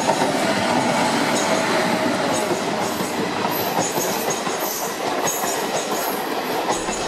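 A train approaches as a thriller sound effect: a steady, loud rumble of rolling wagons with clattering wheels and faint high squeals, continuous throughout with no voices.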